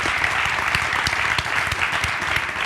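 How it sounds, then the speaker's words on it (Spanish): An audience bursts into dense, sustained applause at a live interview event, many hands clapping steadily at close range for a few seconds with no voices standing out. "moltísimas gracias. Un aplauso"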